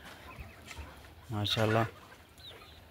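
Golden Misri hens on a poultry farm give a short burst of loud, close clucking in the middle, with faint bird sounds around it and a brief spoken word.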